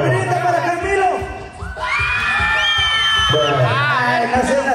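An audience at a couples contest in Springdale, Arkansas shouts, whoops and cheers loudly for a contestant named Camilo, with overlapping voices rising in bursts and a brief dip near the middle.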